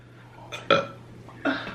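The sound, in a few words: burp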